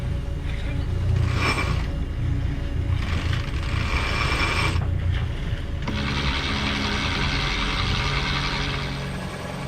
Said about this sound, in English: Mainsail's going up.